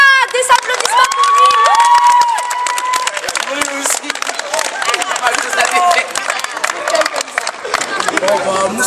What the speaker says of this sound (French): Des applaudissements pour